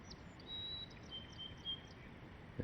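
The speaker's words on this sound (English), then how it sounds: "What we hear there is a white-throated sparrow." A white-throated sparrow sings a thin, high partial song of a few faint whistled notes over a quiet outdoor background on a hiking trail, with a short louder knock at the end.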